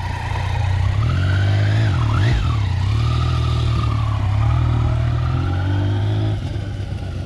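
A Yamaha MT-09 motorcycle braking and then accelerating, its loud continuous engine note dipping and climbing in pitch as the revs change, heard close with no talk over it.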